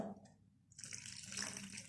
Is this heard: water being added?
yes